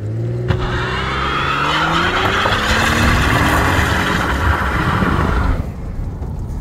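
Blown Holden VK Commodore project car laying rubber in a burnout, engine roaring loudly with rising revs while tyres squeal continuously for several seconds before the noise drops away.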